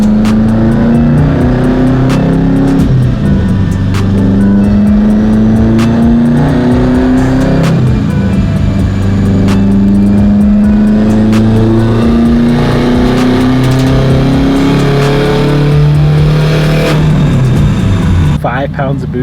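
An STI-swapped Subaru WRX on a dyno roars loudly under load, its engine pitch climbing and dropping through repeated power pulls, sustained and close throughout.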